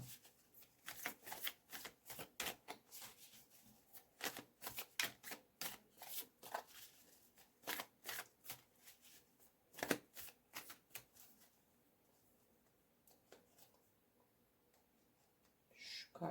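Tarot cards are shuffled by hand in a long run of crisp, rhythmic riffles and flicks, close and fairly quiet, then fading into a few softer taps near the end.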